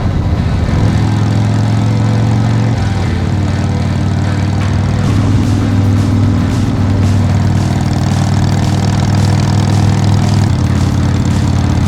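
A rebuilt Harley motorcycle engine pulling along the road, a loud continuous close-up rumble with shifting pitch as the revs change between gears, wind noise mixed in.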